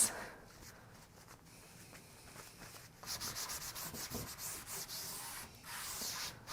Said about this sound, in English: take one of your lint-free cloths, and then wipe that area to remove the excess wax